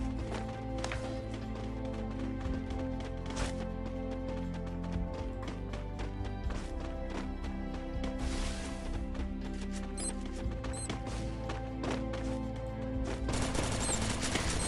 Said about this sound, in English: Firing shots are starting to exchange.